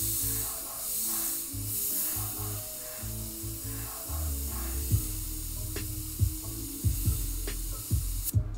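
An airbrush sprays thinned paint in short bursts, soft close hissing puffs that stop and restart with brief gaps, faint throughout.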